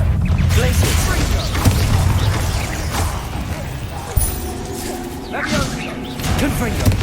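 Glacius freezing spell cast in the Hogwarts Legacy video game on PC, a dense rush of whooshing magical effects and impact thumps amid combat clatter, loud and continuous with a sharp hit partway through, with a spoken voice mixed in.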